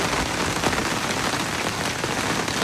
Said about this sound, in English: The sound of the rain is unsettling.